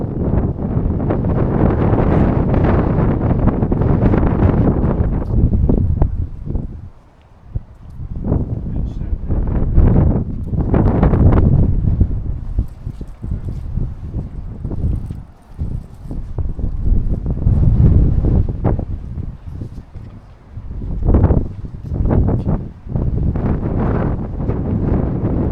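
Strong gusting wind buffets the microphone outside Lichfield Cathedral, a heavy low roar that surges and drops in waves across the whole stretch, with brief lulls between gusts.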